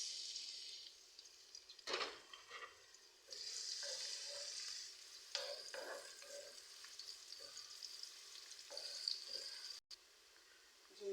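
Onions fry in hot cooking oil in a pan, a soft, steady hiss with faint stirring clatters and a few brief scrapes, quiet and alone.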